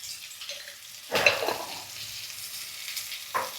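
Ground spices including cumin and black pepper powder sautéing in mustard oil for a light Bengali rohu fish curry, a soft close sizzle with a sharp burst of stirring and scraping midway and another near the end.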